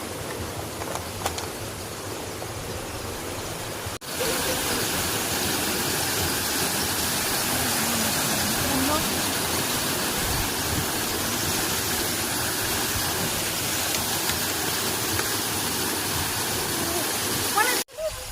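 A Sadbhav solar water pump gushes water in a continuous, loud rushing roar that fills the whole stretch, with a brief break early on and faint voices mixed into the outdoor noise.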